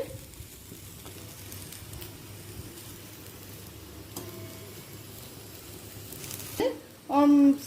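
Mango pieces frying and softening in a pan on a low flame for a jaggery pickle, a soft continuous sizzle with faint stirring scrapes, then a short burst of louder sound near the end.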